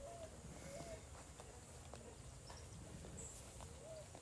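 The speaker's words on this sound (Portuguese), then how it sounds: "Estão ouvindo os cavalos?" Horses clip-clop with a faint, steady rhythm of distant hooves under a constant background hiss.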